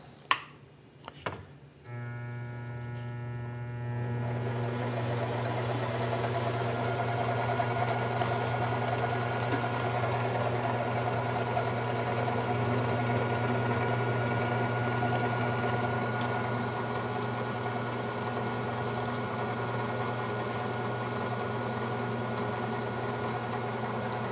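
A 1/8 inch reamer lubricated with cutting oil runs through metal while making a keyway broach, heard as a steady, even machine drone with a low hum that starts after a few brief knocks and holds unchanged for about twenty seconds.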